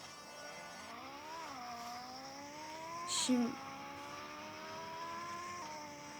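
A car engine in a racing video game climbs steadily in pitch as it accelerates, with quick gear-shift dips and a brief squeal midway, heard under a single spoken word.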